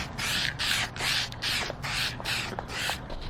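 Bursts of spray paint hiss onto a sanded intake manifold being refinished, about seven short passes in a steady rhythm, close and fairly loud over a low background hum.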